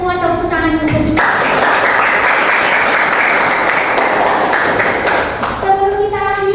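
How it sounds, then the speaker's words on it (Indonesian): Schoolchildren in a classroom burst into loud, dense clapping that runs for about four seconds, with a teacher's voice before and after it. "tepuk tangan untuk kita"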